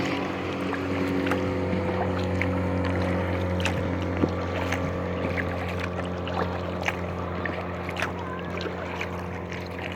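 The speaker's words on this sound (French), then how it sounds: "Un petit bateau de pêche." Small fishing boat passing on a river, its motor a steady low tonal hum heard from a kayak, with light wind buffeting and small water and paddle knocks throughout.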